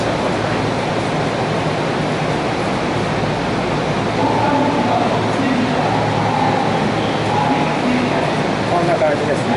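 Steady rumble and broadband rush inside a moving Hankyu-line express train car, early morning first service, continuous and fairly loud with no clear talk over it.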